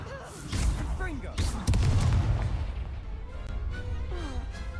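In Hogwarts Legacy, a Confringo blast spell erupts in a loud booming explosion with a heavy thump and crackling debris, followed by lingering rumble and game voices talking over the action.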